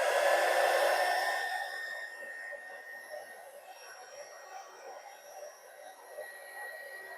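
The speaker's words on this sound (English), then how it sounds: "I can't do the heat gun with my left hand" Heat gun blowing hot air, loud and steady at first, then settling into a quieter continuous whoosh with a faint high whine running throughout.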